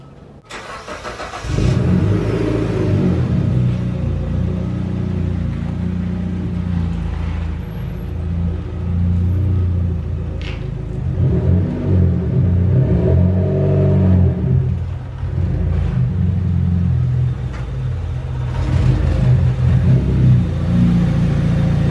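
A Mitsubishi Lancer Evo X engine starts after a short quiet moment, then idles and revs at mid pitch as the car pulls into a garage, steady and close with small throttle swells and no talking.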